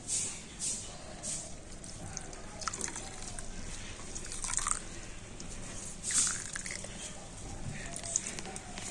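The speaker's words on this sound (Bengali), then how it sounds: "ছানাটা আমি একটু কলের জল দিয়ে ধুয়ে নেব" Tap water runs and drips over vinegar-curdled chhana being rinsed by hand, with soft splashes and squelching bursts through the clip.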